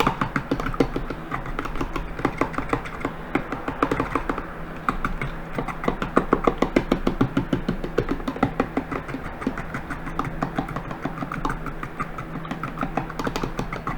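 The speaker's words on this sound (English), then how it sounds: "you hold the bowl and you just go back and forth throughout the bowl. You're whisking it." Eggs are whisked in a bowl with a fork, beaten quickly back and forth. Rapid, steady clicking and tapping of metal against the bowl runs close and continuous throughout.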